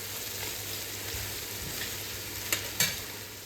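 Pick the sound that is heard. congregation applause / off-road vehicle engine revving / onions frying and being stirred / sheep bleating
onions frying and being stirred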